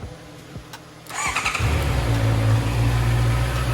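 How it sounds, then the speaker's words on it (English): A 2020 Honda CBR 650 R motorcycle engine turns over and catches after a second of quiet, then settles into a loud, steady rumble with some revving, close by, after a clutch replacement. "I don't hear any problems with the engine."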